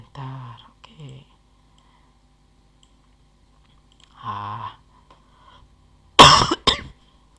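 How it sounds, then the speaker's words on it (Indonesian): A voice hums briefly, then a couple of sharp, harsh coughs burst out near the end, loud and close against quiet background. "Sorry teman-teman, lagi batuk soalnya."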